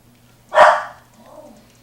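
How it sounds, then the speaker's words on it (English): A single loud dog bark close by, followed by a softer whine or trailing vocal, with no talking. "waiting for my dog to stop barking"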